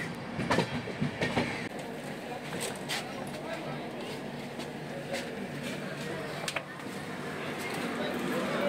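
The Agartala-Deoghar Weekly Express rolls into Guwahati station with a continuous rumble and rhythmic clickety-clack of wheels over rail joints, and people talk faintly in the background.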